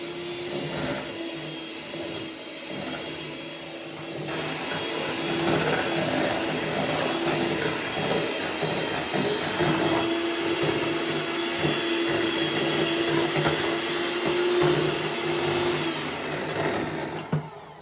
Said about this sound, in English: So we will mix that real well with my little mixer here.